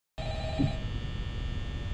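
A telephone rings inside a video game, a steady electronic tone with bright high overtones that begins abruptly and holds for about two seconds at moderate level over low background noise.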